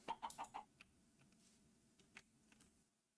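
A few quick clucks from a chicken in a block-building video game, a burst of four short calls at the start, then faint scattered clicks over a quiet background.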